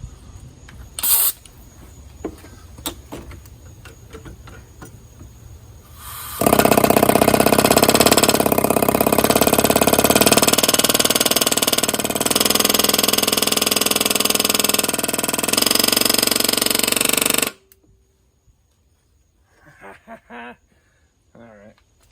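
Quiet room tones and a few clicks, then a car engine runs loudly with a steady droning hum, its AC compressor spinning without noise after an air gap adjustment, for about ten seconds before cutting off abruptly into near silence.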